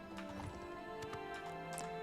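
A horse gallops in Oblivion Remastered, its hooves clopping in quick, uneven beats at a steady moderate level, with no talking.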